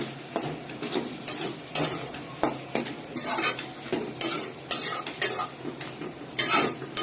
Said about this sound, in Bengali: ধনিয়া পাতা দেওয়ার পর আমরা এগুলো একটু নেড়ে চেড়ে